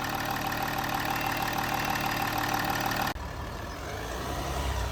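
A Range Rover engine runs steadily at idle while warming up, a faint, even hum that carries on unchanged and grows quieter partway through, with no voices.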